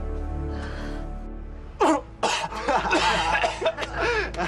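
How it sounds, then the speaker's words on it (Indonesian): A sudden harsh cough rings out after a quiet moment, followed by strained, wheezing vocal sounds and more coughing fits, close to the listener. "Batuk."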